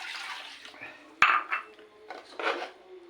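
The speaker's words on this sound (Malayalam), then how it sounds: "കുറച്ചുകൂടി വെള്ളം ചേർക്കുന്നുണ്ട് കേട്ടോ" Water is poured from a glass into a pan of thick shark curry. A close pour sloshes and splashes briefly, and a sharp clink of the vessel against the pan comes partway through. There are a few further splashy bursts and no talking.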